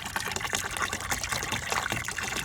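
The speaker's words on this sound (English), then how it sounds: "Bottles are also really fun in water play because when you fill them up they make a really good noise." Water gushes and bubbles steadily as plastic bottles are filled during children's water play, a close, continuous splashing and gurgling with no voices.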